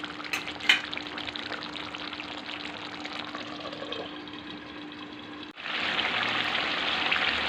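Chicken slow-cooking in a pan with spices and garlic, a steady hiss of frying with occasional clicks early on, then louder, broader sizzling toward the end.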